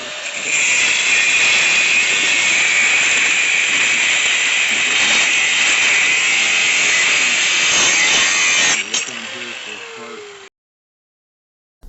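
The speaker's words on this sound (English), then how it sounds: "I'm going to cut these out using an abrasive cutoff disc" An abrasive cutoff disc slices through grade 80 steel plate with a loud, continuous high-pitched grinding whine that holds steady for about nine seconds, then winds down and stops.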